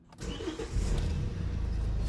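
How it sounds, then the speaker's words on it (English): A Hyundai i30 with a 1.6 CRDI diesel engine starts: a brief starter crank gives way to the engine catching and settling into a loud, close, rumbling idle. "I'm going to start the engine."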